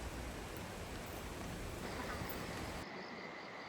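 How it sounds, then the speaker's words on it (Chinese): Steady rain falls across a mountain nature reserve in China, a dense, even hiss of drops that holds at a constant level before dropping away sharply near the end. "下雨了"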